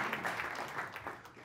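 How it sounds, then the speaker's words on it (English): An audience gives a brief, quiet round of applause, a soft wash of steady clapping heard from some distance. "give the man a round of applause"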